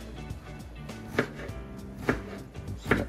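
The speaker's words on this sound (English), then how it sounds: "I cut them in strips, about a half inch, and then right down the middle like that." A knife chops through eggplant into strips on a board, a few distinct knocks spaced about a second apart over faint background sounds.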